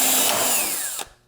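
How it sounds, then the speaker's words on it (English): A power drill with a bigger bit bores into a Mazda Miata hood, giving a close, loud, steady whine for about a second before it abruptly stops. "If I just continue drilling with the bigger bit"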